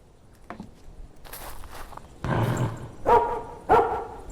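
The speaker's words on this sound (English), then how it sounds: "It's a loud dog." Loud dog barks from the video game After You, several sharp separate barks with footstep-like sounds between, no talk over them.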